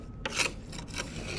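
Scraping material off a broken hay tedder, a close, steady rasping scrape with a couple of stronger strokes, heard alone.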